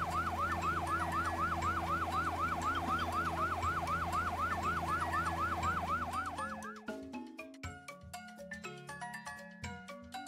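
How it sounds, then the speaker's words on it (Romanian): A loud, wailing fire engine siren cycles rapidly up and down, then gives way to a cartoonish musical jingle. "O mașină de pompieri."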